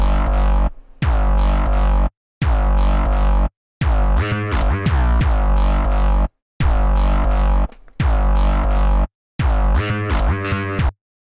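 Simple synth bass sample shaped by a pitch envelope and filtering, played as a loud rhythmic pattern of seven sustained notes with short silent gaps, some hits wobbling with pulsing modulation.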